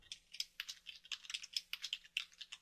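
Quiet, rapid typing on a computer keyboard, with irregular clusters of light key clicks running steadily throughout and no talking.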